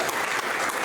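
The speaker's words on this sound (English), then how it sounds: "Another round of applause." Conference audience clapping at the end of a session, a brief, dense burst of applause from a seated crowd at moderate distance.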